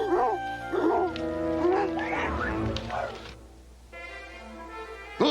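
Several sled dogs bark and yelp in a busy, overlapping chorus with a steady low rumble underneath, fairly close, quieting briefly before picking up again.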